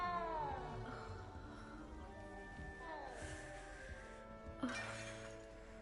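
A cat in the Hogwarts Legacy game gives a few drawn-out meows over quiet ambient music, with a brighter chime or clink near the end.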